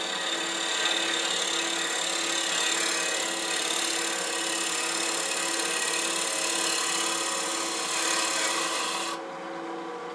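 A negative rake scraper rasps steadily against a dogwood bowl spinning on a wood lathe, a continuous close, loud scraping hiss that runs without pause for about nine seconds before easing off slightly at the end.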